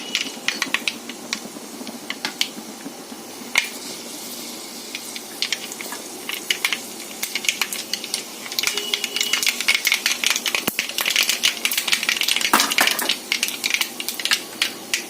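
Mustard seeds, following fenugreek seeds, splutter in hot coconut oil in a pan, a dense stream of sharp crackling pops that grows busier and louder as they burst, with a hissing undertone.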